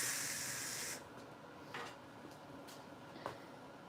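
A MIG welder feeds a short length of wire to prime the line, a short steady hiss that cuts off after about a second, followed by a few faint clicks and light handling sounds in a quiet room.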